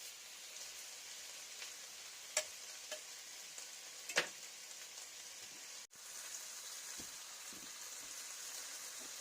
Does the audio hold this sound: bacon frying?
yes